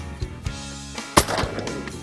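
A sharp shotgun blast cracks out mid-clip during a duck hunt in Argentina, with fainter thumps and distant shots around it in an open outdoor setting.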